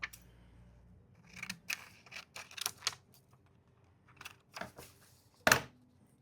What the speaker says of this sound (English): I'm going to cut that down some more.